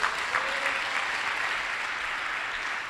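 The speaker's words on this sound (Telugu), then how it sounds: "కొట్టు చప్పట్లు ఒకసారి" Sustained audience applause in a church sermon setting, a dense, even wash of many hands clapping steadily for about three seconds with no voices over it.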